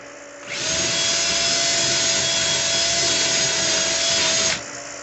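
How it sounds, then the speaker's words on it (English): A case trimmer cuts the mouths of .223 brass cartridge cases while reloading. It makes a steady, close whirring and grinding for about four seconds, starting and stopping abruptly, with a faint tone underneath and no talking. "I'm gonna have to check another one here and make sure we've got the right cutting depth."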